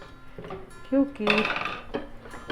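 Pots and pans clatter and knock in a home kitchen as oil is added for cooking, a few close metallic clinks and bumps with a voice talking through part of it.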